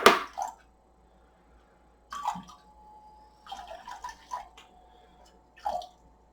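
Filtered water trickles and drips into a container for a bread-flour sourdough, in a few short splashy bursts separated by quiet pauses, close and fairly soft.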